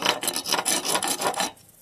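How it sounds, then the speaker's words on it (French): A chipping hammer scrapes welding slag off a fresh weld bead on a metal exterior compartment. A series of loud, close, rasping strokes repeats in quick rhythm, then stops abruptly. "c'est pas un marteau où on tape, c'est un marteau où on gratte"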